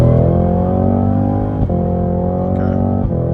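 Cadillac CT5-V Blackwing engine pulling hard while driving in automatic mode, a loud steady growl with climbing pitch, briefly dipping at a gear change partway through before rising again, close and continuous.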